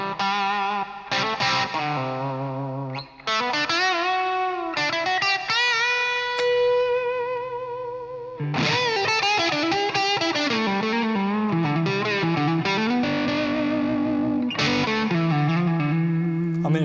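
An electric guitar, a Gibson "Norlin" Les Paul Custom, plays chords and melodic runs with the gain rolled back, warm and moderately distorted, with a short pause midway.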